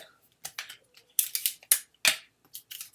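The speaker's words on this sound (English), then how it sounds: "And then I'm just going to tape it in." Tape being pulled and pressed down to fix four paper cookies into a notebook, a run of short crackling rips and rubs at close range, with quiet gaps between them.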